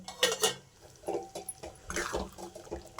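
Pieces of paneer dropped into a cooking pan, giving scattered clinks and soft wet thuds against metal with a light liquid sizzle in between, close and fairly quiet, with no talking.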